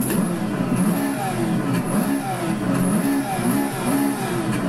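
A Porsche 917K racing engine in the Assetto Corsa video game drones steadily at high revs with small rises and dips, a continuous close engine tone with some faint background noise.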